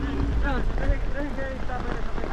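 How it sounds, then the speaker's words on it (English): Steady rain hisses on surfaces in a continuous wash, with voices talking faintly underneath, in a village in the Dominican Republic. "It's raining now."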